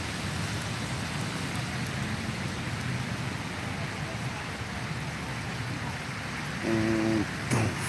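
Steady rain falls at an outdoor dog park in New York City, a dense even hiss running throughout, with a brief tonal sound and a sharp knock near the end.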